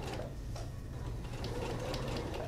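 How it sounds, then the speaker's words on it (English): Sewing machine running a long 4.5 basting stitch along a children's collar with a 3/8-inch seam allowance, a steady close mechanical whirring with rapid needle ticks throughout, no talking. "And basting again with a 3/8 of an inch seam allowance and a longer stitch length."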